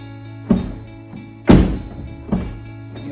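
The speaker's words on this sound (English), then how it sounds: "you open and shut the door" A car door fitted with a rain guard is opened and shut, giving three distinct solid thunks about a second apart, the middle one a heavy slam, close by with no talking.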